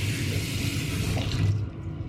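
Water runs steadily from a tap into the sink of an accessible bathroom aboard a fast train in Chile, a close continuous rushing that drops off near the end.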